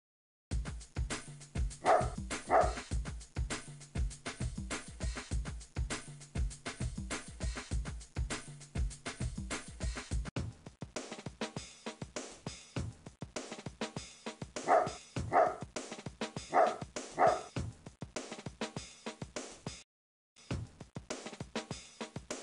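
A dog barks in the children's adventure game Skipper and Skeeto, with short clusters of sharp barks recurring several times against quieter game sounds and no speech.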